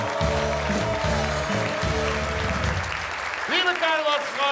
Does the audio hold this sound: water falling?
no